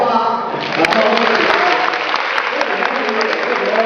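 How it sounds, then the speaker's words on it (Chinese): Audience at a Taiwanese open-source conference lightning talk bursting into sustained applause, loud and dense, following a moment of speech. "我再让他掌声一下吧。"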